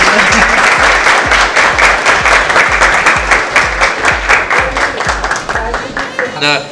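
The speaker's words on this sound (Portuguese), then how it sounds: "Uma salva de palmas para ele." A studio audience applauds a guest, a Spanish-language professor, on a Brazilian TV program: dense, loud clapping that continues for the whole stretch, close and steady.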